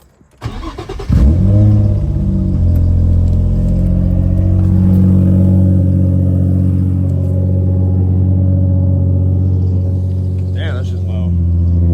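A Nissan 350Z starts and its engine revs up into a loud, sustained rumble close by, holding steady through a long acceleration on a test drive after a P0021 code repair.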